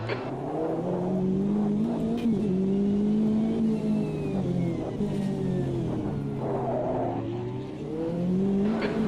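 A race car in the sim racing game Automobilista 2 drones loudly and steadily throughout, its engine pitch rising and falling with gear changes and throttle, up close with no talking.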